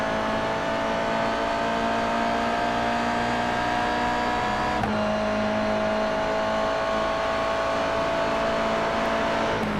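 Toyota GR86 race cars run in a close nine-car pack at Silverstone, engines droning loudly and continuously with overlapping tones that shift as the cars pass.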